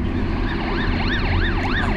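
An ambulance siren wails in a steady rising and falling sweep on the way to the Moria camp, loud and close over continuous road traffic rumble, with no talk.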